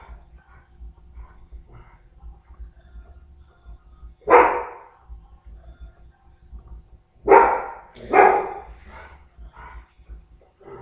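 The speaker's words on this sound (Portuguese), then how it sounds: "o cachorro está latindo ali fora" A dog barking outside gives three distinct bark bursts, one near the middle and a quick pair after, heard at moderate distance over a quiet room background.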